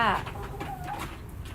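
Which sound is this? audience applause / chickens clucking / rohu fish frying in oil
chickens clucking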